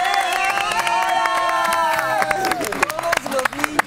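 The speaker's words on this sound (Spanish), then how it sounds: "quiero que los presenten y les demos un gran aplauso" A studio audience, including children, cheers and claps during a live Spanish-language morning TV show, with enthusiastic shouting over music and scattered applause.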